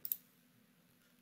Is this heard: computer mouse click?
yes